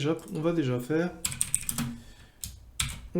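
Code is typed on a computer keyboard, a quick run of crisp key clicks in short bursts that follows someone speaking French.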